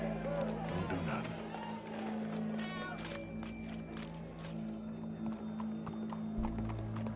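Horse hooves clip-clop at a steady walking pace in the Red Dead Redemption 2 video game, with an occasional whinny and a crowd nearby while characters talk over the hoofbeats.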